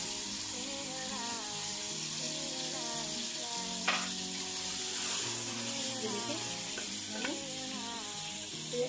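Mutton frying in a pan with ginger garlic paste for a korma gives a steady sizzle, broken by a few sharp clatters of stirring, with a tonal background sound running throughout.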